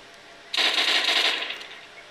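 Rapid-fire gunfire from a modded controller in Call of Duty 4 or Modern Warfare 2, a loud, dense burst of shots lasting about a second and tapering off, with no talking.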